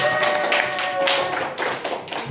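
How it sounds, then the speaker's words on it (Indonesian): A class of students in an Indonesian school lesson breaks into applause, giving close, continuous clapping that swells and dips for a couple of seconds. "Kita beri tepuk tangan yang meriah."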